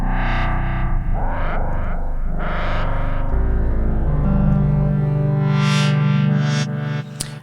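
A Groove Synthesis 3rd Wave wavetable synthesizer plays basic, evolving tones with a sustained bass drone and shifting harmonic layers, heavy effects and distortion, steady and loud throughout with no voice.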